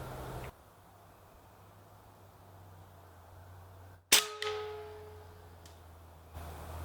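A single sharp crack from an AEA Challenger Bullpup .25 air rifle firing at a 9mm casing on an outdoor post, with a faint metallic ping of the hit right after, loud against quiet outdoor background, no talking.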